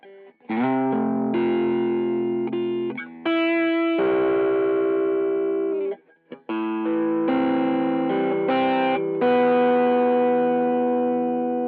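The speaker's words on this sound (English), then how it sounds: "along with the Benson Chimera VST by Mixwave in Pro Tools, that's my dry signal" A dry, effect-free instrument signal runs through the Mixwave Benson Chimera amp plugin in Pro Tools: loud sustained chords and ringing notes in several phrases, with brief gaps between them.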